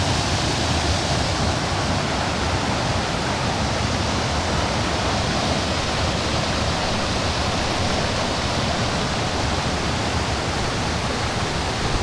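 A river rushes fast through a narrow gap, a loud, steady, unbroken roar of turbulent water heard close up with no pauses or other sounds.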